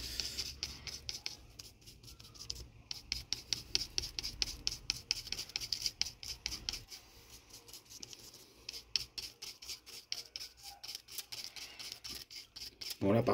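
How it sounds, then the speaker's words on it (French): Paint is scraped off a model railway flat wagon for a weathered look: quiet, rapid scratching strokes repeat in close, rhythmic bursts with a brief pause partway through. "Là, on gratte et ça fait vraiment de l'usure dessus qui est vraiment sympa."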